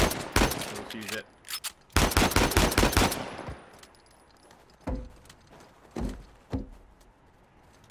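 Pistol fire in Uncharted 4: a dense volley of sharp, loud shots in rapid bursts, then scattered single cracks and thuds with short pauses between them.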